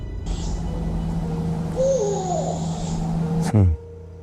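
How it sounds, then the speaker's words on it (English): An owl hooting in a forest at night, a single wavering hoot in the middle of a steady low background hum, followed by a sharp brief knock near the end. "one of the sounds he's hearing sounds like an owl"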